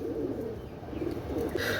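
Teddy pigeons, a male and female pair, coo in soft low repeated calls close by, the throaty notes rising and falling in short bursts without any talk over them.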